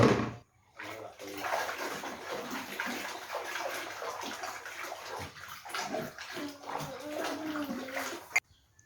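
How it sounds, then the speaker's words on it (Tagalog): Washed plates are rinsed under running water at a sink, giving a continuous close gush and splashing with some clinks and sloshing, fading near the end. "tapos na ako magsabon ng mga plato. Ayan, binabanlawan ko na yan"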